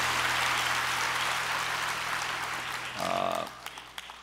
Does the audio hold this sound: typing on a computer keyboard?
no